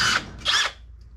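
A power drill boring a 1/4 inch hole to enlarge a 1/8 inch pilot hole during hot rod steering linkage work, two short close whirring bursts and then quiet.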